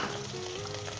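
Ginger and garlic sizzling in a hot pan of oil while cooking shimla mirch keema with beef mince, a steady, close frying hiss that stays level throughout with no talking.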